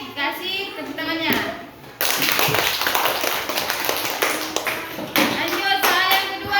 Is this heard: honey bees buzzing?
no